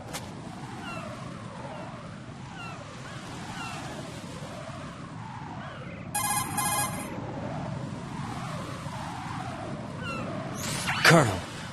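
A cell phone rings inside a Metal Gear video game, two short electronic bursts of trilling tone over a steady bed of game ambience and murmuring voices.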